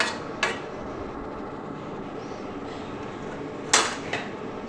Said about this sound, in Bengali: এবারে আমি একটা ভালো করে ঢাকা দিয়ে দিচ্ছি